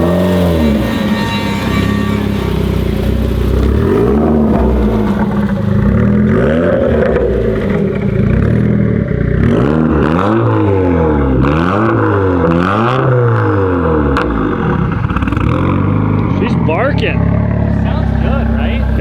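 Subaru WRX with a fully built IAG engine, running loud and close throughout, with revs rising and falling in repeated swells over a steady rumble while people talk over it.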